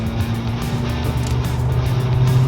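A 2015 VW Polo GTI hatchback engine in sport mode hums with a deep, bassy drone that swells slightly louder toward the end, close and continuous.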